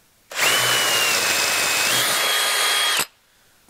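A power drill whines loudly for about three seconds as it bores a hole through metal, then stops abruptly.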